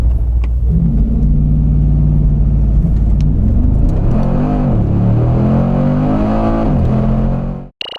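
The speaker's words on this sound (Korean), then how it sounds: "여기서 잠시 발진 가속 성능을 한번 볼까요?" A 2021 Mercedes-AMG G 63 with a turbocharged engine launches hard from a standstill in winter, its loud, deep engine roar climbing steadily through the gears with brief dips at shifts, no talking, before the clip cuts off abruptly.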